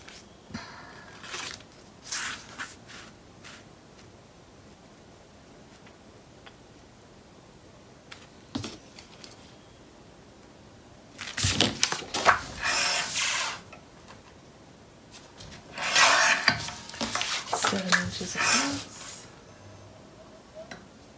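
An 8x8 sheet of patterned paper is cut on a paper trimmer, first a few light clicks and taps, then two longer scraping slides of the blade close by, with quiet handling between.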